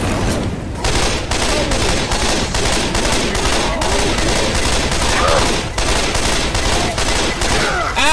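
Rapid gunfire in the zombie shooter Left 4 Dead 2, a dense, loud run of repeated blasts close up, with shouting voices mixed in.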